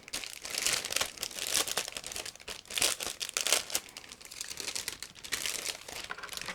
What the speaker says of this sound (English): all parts are sealed into one plastic bag. So I'm going to open them right now